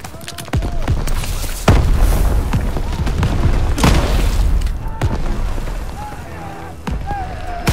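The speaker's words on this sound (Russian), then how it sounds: "Бросаю гранату!" Heavy booming blasts from a grenade in Call of Duty: WW2 rumble through a chaotic battle, with scattered gunfire around them and shouting voices over the din.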